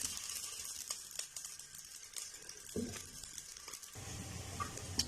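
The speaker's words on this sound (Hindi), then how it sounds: "ऑयल को बहुत ज़्यादा हमने जो है वो फ्राई नहीं करना, इसको हल्का जो है वो गुलाबी होने तक सौते करना है।" Sliced onions sautéing gently in oil for achari moong masoor dal, a soft steady sizzle with occasional stirring clinks and scrapes, close and fairly quiet throughout.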